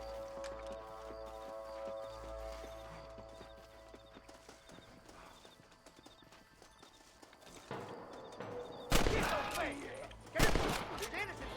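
Gunfire in Red Dead Redemption erupts near the end as two loud blasts. Horse hoofbeats and background game sounds come first, with voices in the scene.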